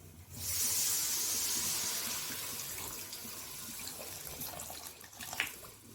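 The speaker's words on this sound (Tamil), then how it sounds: "நம்ம ஊற வச்சு கரைச்சி வச்சுருக்க புளி தண்ணியும் ஊற்றிக்கலாம்." Tamarind water pours steadily into a pan with a continuous hissing splash, loudest at the start, then easing slightly, with a brief clink near the end.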